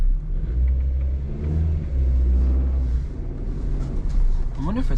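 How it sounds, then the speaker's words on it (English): A Suzuki Wagon R Wide kei car with a 1-liter engine drones steadily while driving, a low rumble rising and easing with the throttle, heard from inside the cabin. "First time driving a Suzuki Wagon R wide"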